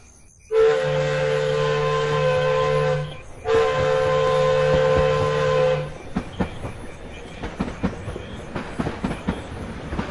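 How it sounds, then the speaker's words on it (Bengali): A down train approaching at midnight sounds two long, loud whistle blasts separated by a brief gap, followed by the rumble and rhythmic clatter of the wheels on the rails. "রাত 12টা 5 ডাউন ট্রেন শীষ দিতে দিতে আসছে"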